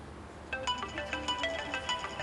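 A mobile phone ringtone plays a bright electronic melody of short repeated tones, close and fairly loud, with no talking over it.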